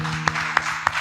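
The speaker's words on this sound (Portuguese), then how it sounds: "Aplauda o Senhor bem forte" Sharp hand claps at a church worship service, three evenly spaced strokes close by over a low electrical hum.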